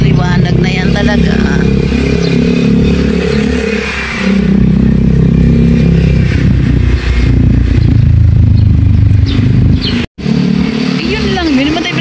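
A motorcycle engine drones steadily during an early-morning solo ride, close and loud with wind noise, shifting in pitch as it accelerates, while a rider talks over it.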